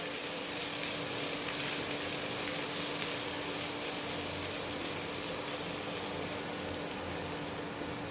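Fried coconut with chopped ginger and crushed garlic sizzling in a pan, a dense steady hiss of frying with faint stirring underneath, continuous and close for several seconds, with no voices.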